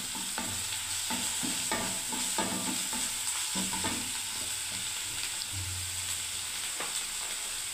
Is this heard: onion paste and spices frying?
yes